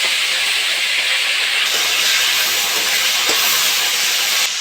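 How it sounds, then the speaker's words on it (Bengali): Small freshwater shrimp frying in hot mustard oil in a heated kadai: a loud, continuous hissing sizzle that swells brighter partway through and holds steady to the end, with no voices. "তেলটা গরম হয়ে গেছে, আমি চিংড়ি মাছটা ভেজে নেবো।"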